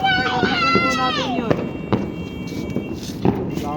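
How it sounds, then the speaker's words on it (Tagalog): New Year fireworks in Mindoro pop and thud in scattered bursts, a few sharp cracks standing out near and far, while people talk and exclaim excitedly and a rising-and-falling whistling tone sweeps through early on. "ang ganda ng fireworks nila"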